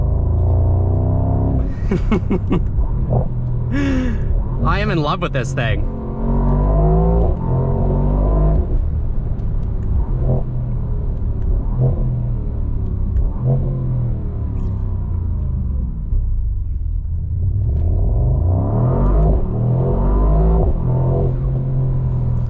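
A 2023 Mercedes SL63 AMG engine revs repeatedly with rising and falling turbo whine, loud and close, and a deep rumble between bursts. Someone speaks briefly over it.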